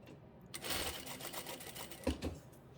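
A home sewing machine stitches scrunchie fabric with elastic in a brief, quiet run of rapid mechanical clatter, with a small knock near the end.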